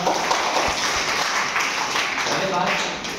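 An audience claps loudly at a personal development seminar, a dense, steady wash of applause that fills the whole moment and fades slightly toward the end.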